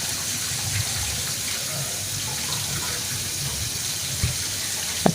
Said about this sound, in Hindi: अब इनको मैं अच्छी तरह वॉश कर लूँ। इनको अच्छी तरह इनको धोना है